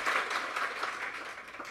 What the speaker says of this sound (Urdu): تالی بجاؤ میرے واسطے